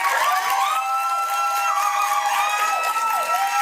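At a dating show taping, the studio crowd claps and cheers loudly and without a break, with high excited shouts and whistling voices sweeping over a steady bed of applause.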